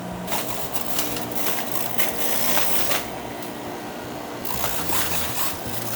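A whole cucumber with its skin on goes through a juicing machine, giving a continuous grinding, crunching churn with a fairly even texture throughout.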